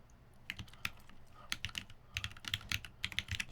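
Typing on an Alps Yuri mechanical keyboard, quick uneven bursts of close, crisp keystroke clacks, alone and fairly quiet.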